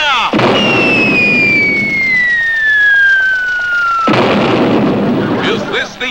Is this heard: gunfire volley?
yes